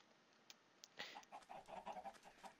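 Chickens in Minecraft clucking softly, a few short clucks and squawks in quick succession, quiet against a faint background hiss.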